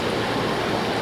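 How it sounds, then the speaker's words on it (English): Tons of glacier ice crashing into the water in southeast Alaska, heard as a dense, loud roar of churning, splashing water filling a single second without voices. "tons of ice plummet into the water at the exact spot where the small boat had been"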